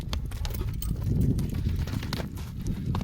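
A horse's hooves clip-clop close by in a quick, steady rhythm over a low, rumbling background.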